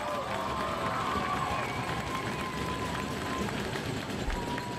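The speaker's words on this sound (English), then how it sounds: "if you can hear a big cheer at home, that's because Matthias Frank had just been announced to the crowd as the new leader of the race" A crowd at the finish of a Tour de Suisse cycling stage gives a broad, continuous cheer that holds steady throughout, with a faint whistle-like tone drifting above the roar.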